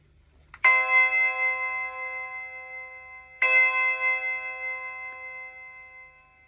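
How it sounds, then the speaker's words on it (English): A doorbell playing a church bell chime: two clear, ringing bell strikes a few seconds apart, each sustaining and slowly fading, close and alone with no talk. "Church bell, very nice."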